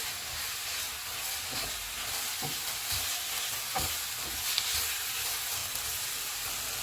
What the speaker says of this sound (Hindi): इसमें ग्रीन प्याज डालेंगे और इनको 1 मिनट तक पकाएंगे